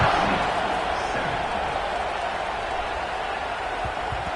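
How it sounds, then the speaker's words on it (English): Football stadium crowd buzzing and cheering after a score, a steady broad roar filling the space throughout, loud and continuous with scattered shouts within it. "this crowd is buzzing after that last score"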